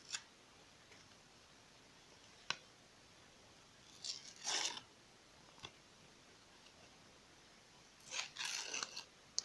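Quiet crinkling and rustling of a paper or plastic packet being handled and tugged at, in short bursts with soft clicks between.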